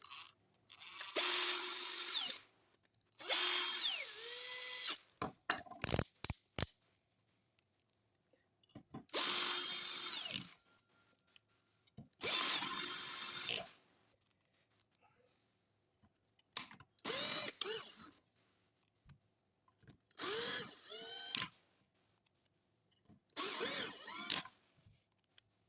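A power tool whirs in repeated bursts of a second or two while screwing down Lambretta scooter clutch parts fastened with Torx screws, separated by quiet pauses and small ratcheting clicks, close and fairly loud.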